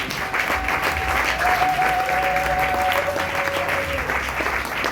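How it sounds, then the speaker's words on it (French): Church congregation applauds loudly at a Sunday service, a thick, constant roar of clapping hands that holds steady for the full five seconds, with a sustained tone from a voice or instrument drifting faintly beneath it. "Est-ce que nous pouvons applaudir très fort pour le Roi de Rois?"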